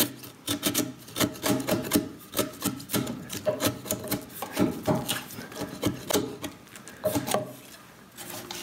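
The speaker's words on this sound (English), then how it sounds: "You have to be careful not to drive your chisel in so deep that you can't get it out." A chisel cutting a mortise in a timber frame floor sill, giving close, steady scraping and rasping strokes with irregular rhythm that continues throughout.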